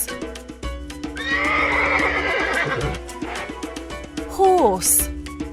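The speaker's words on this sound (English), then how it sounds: "Horse, horse." A horse gives a long, loud whinny that rises and then wavers downward, close and clear, with a few hoof clip-clops beneath it.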